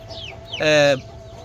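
A chicken gives a loud, drawn-out squawking cluck in a single burst, with softer clucks and chirps around it in a busy rooftop coop where the birds peck at each other.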